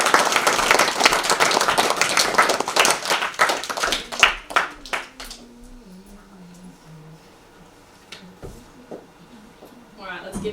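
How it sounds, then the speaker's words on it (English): School assembly audience applauding, a dense burst of many hands clapping that thins out after about five seconds into scattered claps and quiet, with a voice briefly heard. "let's give them one more round of applause"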